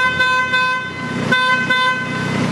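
A steady electric horn on a Moffett M3603STM diesel truck-mounted forklift sounds continuously, a bright buzzing honk held for a couple of seconds with slight pulses, close and loud.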